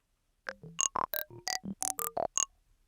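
Quick synthetic psytrance-style psychedelic particle blips and pings pop out one after another, each short and bright with shifting pitches, scattered in a rapid burst against silence.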